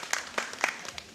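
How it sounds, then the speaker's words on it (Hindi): An audience at a stage play applauds a guest in a brief, quiet burst of scattered claps, heard from a distance. "श्री संजय ममगई जी, एक जोरदार ताली हो जानी चाहिए साहब"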